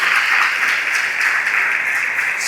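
A church congregation claps together in praise during a sermon, a bright, steady burst of applause lasting the whole moment without speech over it.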